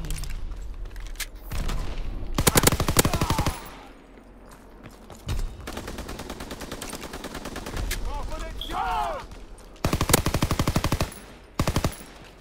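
Bursts of rapid automatic gunfire and single heavy shots in a World War 2 shooter, loud and close, coming in several volleys separated by quieter gaps, with whooshing effects and occasional faint game voices between the bursts.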